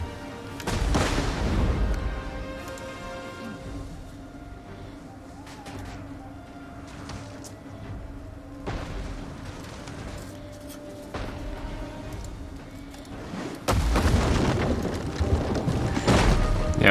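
Siege artillery in Rome Total War 2 pounds city walls: a heavy boom opens, scattered crashes and rumbles follow over a low game ambience, then another loud burst of impacts closes it.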